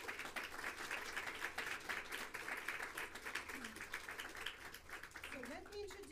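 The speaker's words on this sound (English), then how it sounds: "So let us applaud all of our students today." A recital audience in a piano concert hall claps for the student performers, soft and fairly distant, with a voice briefly rising near the end.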